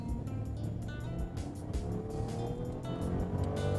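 A 2014 Rolls-Royce Ghost accelerating hard, a steady, full engine and road roar that builds continuously with no talking.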